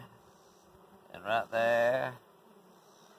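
Honeybee swarm balling a queen outdoors, a close buzzing hum that swells into two loud bursts of droning, with someone briefly speaking.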